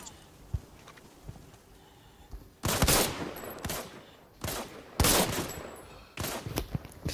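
Gunfire in the mobile shooter Arena Breakout, with bursts of loud rapid shots separated by quieter stretches of movement and footsteps, a player's voice briefly present.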